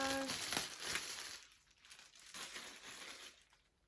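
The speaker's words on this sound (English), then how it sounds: "No, I'll unwrap it." Plastic packaging around a sunset projection lamp crinkles and crumples as it is unwrapped by hand, a close, busy rustle that eases off briefly midway before resuming at a softer level.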